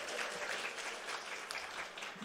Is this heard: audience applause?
yes